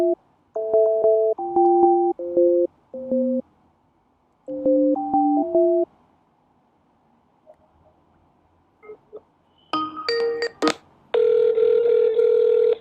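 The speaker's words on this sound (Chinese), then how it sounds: "下面我跟大家演示一下用 Skip 打美国银行客服电话" A telephone call to Bank of America customer service placed through Skype, with a series of clear electronic ringback tones in repeated bursts separated by pauses, followed by short tone beeps and a sustained connecting tone, with no talking.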